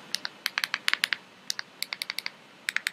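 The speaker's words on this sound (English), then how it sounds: "where it says password, you want to click and type in your password." Crisp, close keystrokes tap out a Wi-Fi password on a keyboard in irregular quick bursts with short pauses between them, with no voices.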